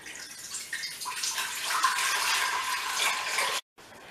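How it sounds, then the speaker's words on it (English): Water pours steadily from a kettle into a pan in a home kitchen, a continuous close splashing rush that builds and then cuts off abruptly near the end. "Pour it into your pan."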